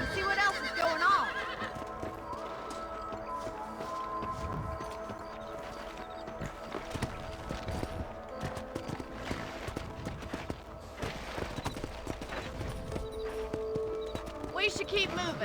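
Horses in a video game whinny and hooves clip-clop at a quick pace, with voices talking over the steady trotting.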